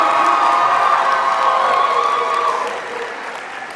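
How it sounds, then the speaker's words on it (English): Audience applause and cheering at a college convocation ceremony for criminal justice graduates, a loud sustained roar of clapping with whoops that fades down toward the end. "please give a round of applause for the graduates from the Bachelor of Applied Arts Criminal"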